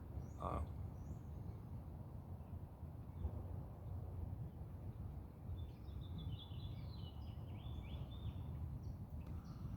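Faint birdsong drifts from a morning garden, a few thin distant chirps and short trills scattered over a quiet, breezy outdoor background with soft rustling noise.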